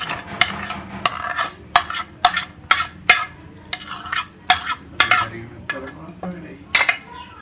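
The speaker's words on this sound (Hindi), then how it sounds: "अब हम इस सारी चीज़ों को मिक्स करेंगे सलाद बनाने के लिए" Cabbage, cucumber and onion tossed together in a bowl for a vegetable salad, a rhythmic series of close, crisp scrapes and rustling clinks repeating roughly every half second.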